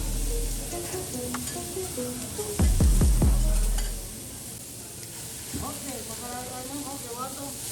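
Sirloin and rib-eye steaks sizzling and hissing on a teppanyaki grill, with a clatter of spatula strikes midway and steady frying underneath, while background voices murmur throughout.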